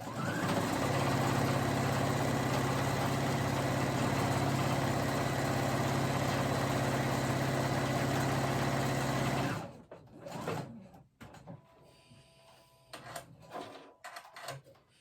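Sewing machine running steadily for about nine and a half seconds as it stitches an elastic casing on a summer top, loud and continuous motor whir, then stopping, followed by quieter handling noises.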